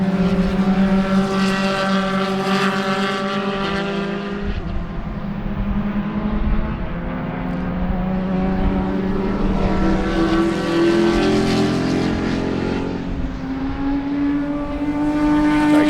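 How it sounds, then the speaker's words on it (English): Spec Racer Ford race cars roar past at Sebring during a two-hour enduro, their engine notes rising and falling in loud, continuous sweeps as they pass close by. "A couple more Spec Racer Fords"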